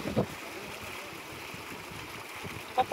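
Water gushes steadily from a village tubewell, a continuous rushing, splashing wash that stays fairly even throughout, with a couple of brief louder splashes near the start and end.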